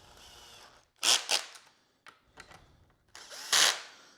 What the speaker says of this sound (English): You want to make sure you set the maximum torque on your drill to something reasonable